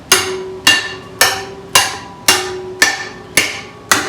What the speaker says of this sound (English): just to take a hammer and just gently tap